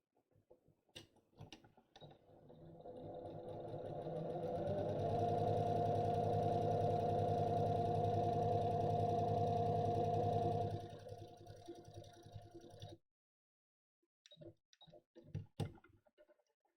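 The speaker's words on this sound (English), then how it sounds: "Set your machine for sewing gathers." A sewing machine stitches gathers in tulle with tension at zero and long stitch length, starting after scattered clicks, building to a steady loud whirring run for about eight seconds, then stopping, followed by a few handling clicks.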